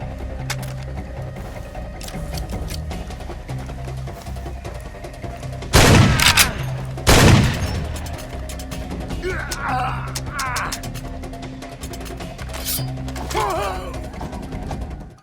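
Gunfire in the S.T.A.L.K.E.R. video game, two loud bursts of shots close together at mid-clip over a droning game soundtrack, followed by fainter clatter and game sounds.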